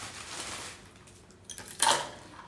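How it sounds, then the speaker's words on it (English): Crushed ice dropped into a cocktail glass of gentian liquor, pineapple juice and tonic, a soft rustling spill followed by a short, brighter crackling clatter near the end, close and moderately loud. "And then I'm gonna fill the glass with ice,"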